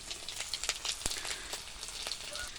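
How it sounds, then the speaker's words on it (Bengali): Onion, garlic, ginger and chilli paste frying in a pan before mushrooms go in, giving a steady close sizzle with scattered crackling pops throughout. "আদা রসুন বাটা পেঁয়াজ বাটা লঙ্কা বাটা খানিকটা পেঁয়াজ দিয়ে ভালো করে কষিয়ে নিয়ে মাশরুমগুলো দিয়ে দেবো"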